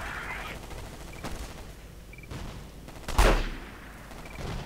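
Gunfire rattles in the Battlefield 2142 video game on the Karkand map, with scattered distant shots and short bursts, then one sharp, louder blast near the middle over a steady background rumble.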